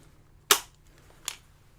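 A Mattel Jurassic World toy cannon fires with a sharp snapping crack, followed by a softer second knock shortly after, close and otherwise quiet.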